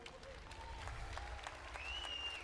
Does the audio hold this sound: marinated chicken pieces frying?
no